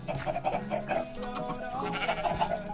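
Sheep bleating in Minecraft during an ultra-hardcore survival series, a few short nasal bleats close by over game sounds, with a voice talking faintly underneath.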